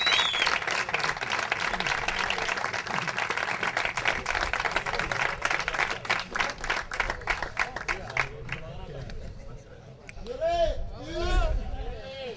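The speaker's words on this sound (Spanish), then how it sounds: "Fuerte aplauso." An audience at a trophy ceremony for a local futsal league applauds the least-beaten goalkeeper, with steady clapping from a crowd under chatter that fades after about eight seconds, leaving voices and background noise.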